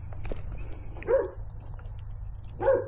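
A dog gives two short, close barks about a second and a half apart over a steady low hum, with a faint sound at the start and no talking.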